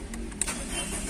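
A Ford Figo's engine cranks and starts after a wiring short-circuit fault in its ignition was repaired, a short close mechanical burst over a steady hum.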